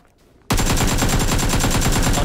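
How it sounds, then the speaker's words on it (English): Rapid sustained automatic gunfire from the PUBG video game on the Vikendi map, erupting suddenly after a brief quiet moment and continuing as a loud, dense, steady burst of shots. "But I am going to put a bullet in his head."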